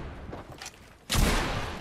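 Gunfire in the Fortnite battle royale video game, a sudden loud burst of shots kicking in about halfway through after a quieter stretch of distant game noise.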